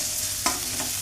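Spiced rice with fried paneer is stirred in a hot pan, with a continuous soft sizzle and one brief scrape of the spoon, close and without talk.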